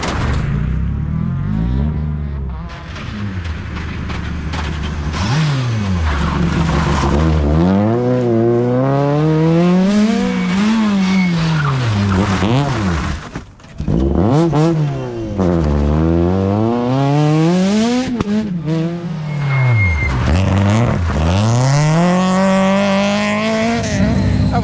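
A rally car on a dirt stage, part of the 32nd Rallye des boucles de Seine 2024, roars loudly through repeated rising and falling revs as it slides, with one short drop in the engine note midway.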